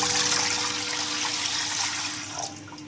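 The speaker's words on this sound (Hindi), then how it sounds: "ये एक जग हमने भर के पानी डाल दिया है।" A steady stream of water pours from a jug into a pot, rushing for a couple of seconds before tapering off near the end.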